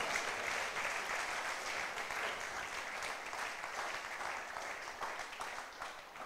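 A church congregation at a French-language worship service in Luxembourg claps together in a dense, continuous wash of applause that holds steady for several seconds, then eases slightly toward the end.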